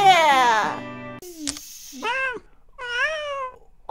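A kitten in the PetzCatz 2 video game gives a few short, high meows, separated by pauses, with a synthetic electronic tone at the start.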